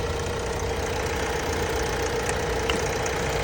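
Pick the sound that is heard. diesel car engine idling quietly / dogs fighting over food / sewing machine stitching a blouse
diesel car engine idling quietly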